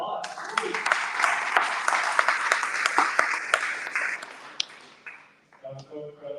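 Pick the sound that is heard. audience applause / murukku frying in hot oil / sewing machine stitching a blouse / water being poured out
audience applause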